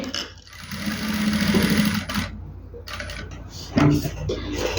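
A sewing machine runs in close bursts, stitching the collar of a baby boy's dress, its rapid mechanical whir starting and stopping with brief pauses and a few light clicks between runs.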